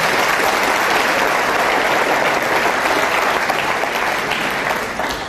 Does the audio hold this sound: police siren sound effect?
no